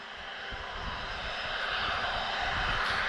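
An airliner with Rolls-Royce Trent 772 engines at Lisbon Airport makes a steady jet roar that builds slightly over a few seconds, heard at a distance with no voices.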